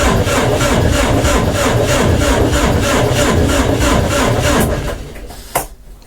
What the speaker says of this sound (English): just not turning over fast enough to get her going